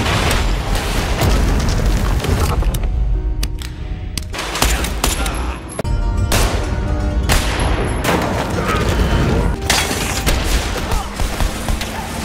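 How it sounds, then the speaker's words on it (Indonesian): Gunfire in an action film scene: dense, loud bursts of shooting and blasts roll on continuously, with gaps between volleys and dramatic background sound throughout. "Dan wanita ini mulai menembak."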